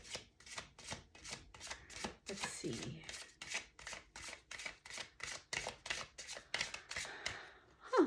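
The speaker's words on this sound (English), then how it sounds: "Let me shuffle something out." Tarot cards are shuffled in quick, even riffling strokes, close and crisp, with a few brief spoken words over the sound.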